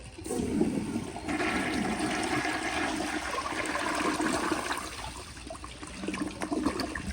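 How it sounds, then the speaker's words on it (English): A 1951 Crane Neuday toilet on a flushometer flushes with its rear jet plugged, a loud, steady rush of water that holds for several seconds before tapering into a refilling trickle. "I'm gonna go ahead and give it another flush while plugging the jet at the back"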